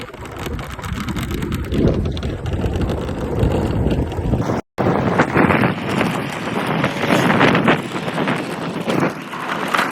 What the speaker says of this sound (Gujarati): મસ્ત ઠંડી ઠંડી હવા આવે છે